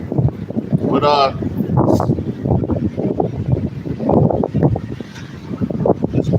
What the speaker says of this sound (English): It's windy and up out here.